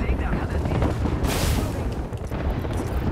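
Grenade explosions in a video game, a dense continuous rumble of booms and blasts with a bright burst partway through, loud and sustained, with voices talking over it.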